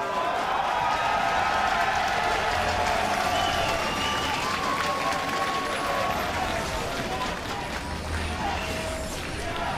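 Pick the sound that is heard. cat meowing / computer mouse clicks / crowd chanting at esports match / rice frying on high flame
crowd chanting at esports match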